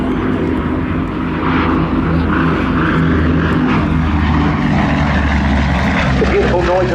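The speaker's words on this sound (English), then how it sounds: "The beautiful noise of those Mercury engines" A vintage aircraft with overhauled Mercury radial engines flies over the Southport Airshow, a loud, steady propeller drone that keeps its level throughout with a deep engine rumble.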